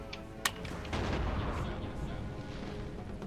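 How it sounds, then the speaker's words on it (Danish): In the Napoleon Total War battle game, a sharp cannon shot bursts out early, followed by a sustained low roar of distant artillery and musket fire rumbling on throughout. "Han skyder allerede på os"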